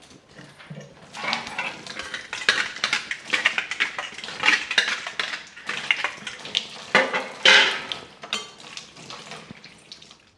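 Dishes and utensils clatter and clink continuously in a home kitchen as someone washes them, with running water under the busy, close clanking.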